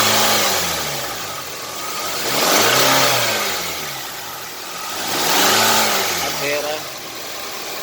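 A Hyundai Sonata 2.4 engine runs and revs in two slow swells, its mid-range drone rising and falling with a rough, clattering edge, while someone talks nearby.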